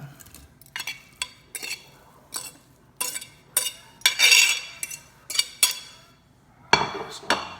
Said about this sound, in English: now we're going to put all the pulled pork back inside